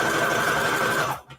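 A sewing machine stitches a layer of paper collage in a floral journaling spread, running as a fast, close, steady mechanical whir before it stops abruptly.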